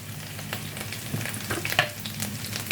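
Tomato, garlic, onions, spring onions and ginger fry for jollof rice, giving a continuous close sizzle and crackle broken by light stirring scrapes.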